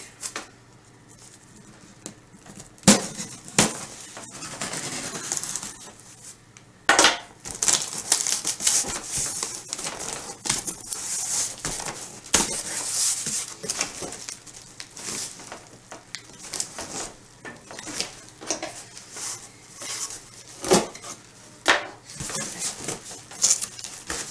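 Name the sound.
tearing open a cardboard shipping box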